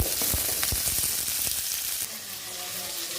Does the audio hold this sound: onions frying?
yes